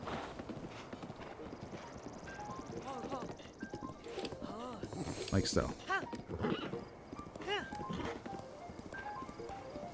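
Hooves of a wild horse clip-clop steadily in the Breath of the Wild video game, with a loud whinny midway, while someone talks over the hoofbeats throughout.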